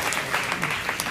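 Brief burst of crowd applause during games at a company dinner and dance. Dense, rapid clapping fills just over a second at a steady level.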